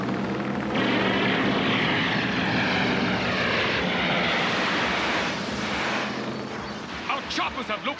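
Helicopters roar overhead in an animated RoboCop episode, a loud sustained rotor and engine wash with a layered whine, joined by a voice talking and sharp bursts toward the end.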